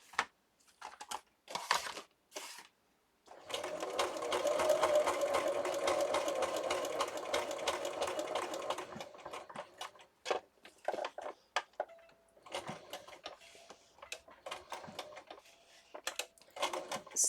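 A sewing machine stitches slowly through a paper accordion booklet, whirring steadily for several seconds before giving way to scattered clicks and short bursts as the work is handled and turned.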